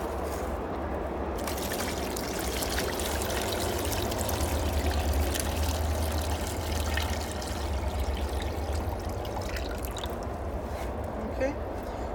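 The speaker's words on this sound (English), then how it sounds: "Get the water in there." Water poured into a micro lotus pot, a steady broadband trickle and splash running continuously for about twelve seconds, close by.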